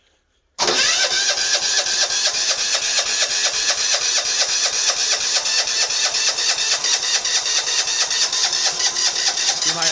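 The 20HP engine of a Bolens 1600H hydrostatic garden tractor cranks and catches after a brief silence, then runs at a steady, loud, buzzy idle with a rapid pulsing rhythm. The exhaust is leaking, and the running continues unbroken to the end.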